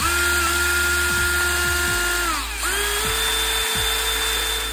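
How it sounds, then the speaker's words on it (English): A power drill boring a hole in a Sega Dreamcast controller shell to fit a wireless mod's reset button, a loud, steady high motor whine that briefly slows and dips in pitch midway before spinning back up. "So let's start drilling."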